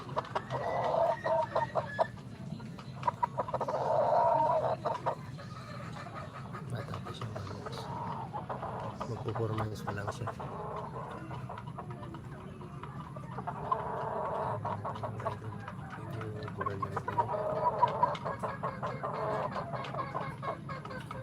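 Pet chickens clucking in a backyard flock: a steady run of close, moderately loud clucks and fowl calls that carries on for the whole stretch, with possible faint voices underneath.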